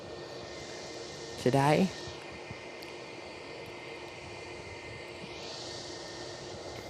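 A passenger jet taxiing at Perth Airport, heard as a steady distant engine whine and rumble throughout, with a brief spoken word near the start.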